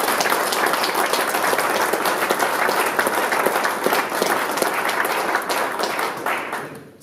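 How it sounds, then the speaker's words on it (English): A crowd at the Crolla vs Burns boxing press conference gives a dense, sustained round of applause, loud and steady before tapering off at the end. "I think they both deserve a huge round of applause for what they've both achieved in boxing up to now"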